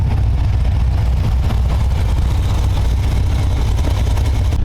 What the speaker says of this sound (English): He's pulling out his dad's Mustang right now.